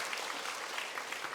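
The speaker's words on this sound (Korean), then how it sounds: "여러분 박수 한번 쳐주세요" Church congregation applauding during a sermon, a steady wash of many hands clapping together, even and sustained throughout.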